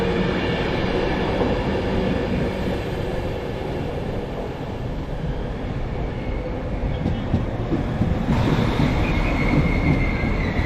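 A passenger train rolls steadily through Preston station, a continuous close rumble of wheels on rail with faint squealing and clattering throughout, no talk.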